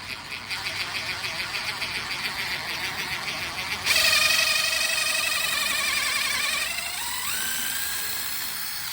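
A power drill pre-drills a screw hole, first pulsing in quick rhythmic bursts, then whining steadily at higher speed with its pitch sliding up near the end; close and fairly loud.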